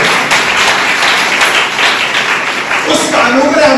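Church congregation clapping together through a Sunday service, a dense steady wash of hand claps at close range, with a voice speaking over it toward the end.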